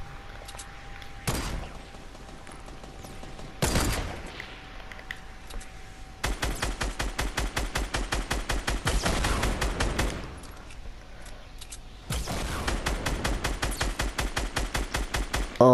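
Rapid automatic gunfire in the Fortnite video game, two single loud shots followed by long sustained bursts of evenly spaced rounds, close and loud with no talking over it.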